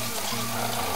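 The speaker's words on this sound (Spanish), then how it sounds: "Con un poquito de agua fría le vamos a lavar un poco para soltarle" Cold tap water running steadily over cooked rice being rinsed to loosen its starch, a continuous close splashing wash with no pauses.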